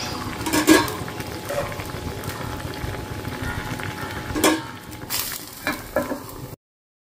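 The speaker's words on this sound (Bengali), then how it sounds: "কাঁচা লঙ্কা দিয়ে পাতলা ঝোল করছি" A thin curry of green chili, whole cumin, ginger and tomato simmers with low bubbling and a soft sizzle, broken by a few close clinks of a spoon against the pot.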